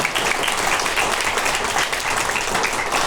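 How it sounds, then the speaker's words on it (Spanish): Worshippers in a church clap together for the Lord, a full, even wash of crowd applause that carries on without a break and with no talking heard over it. "Vamos a dar un aplauso al Señor"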